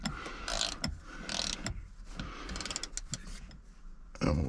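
Ratchet wrench tightening a bolt during an R-1287 install, heard as quick bursts of clicking spread over a few seconds, each short run of ratcheting clicks separated by pauses, fairly close and moderately loud.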